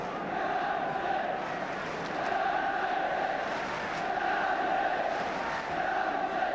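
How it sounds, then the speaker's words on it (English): A football stadium crowd at a 1976 Manchester United versus Tottenham match keeps up a steady, dense roar of cheering and chanting that swells slightly and never breaks. "the crowd trying to do their part in bringing about the first goal"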